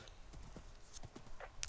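Horse hooves clip-clopping in the Minecraft video game, a quick run of light, evenly spaced knocks heard up close with no talking over them.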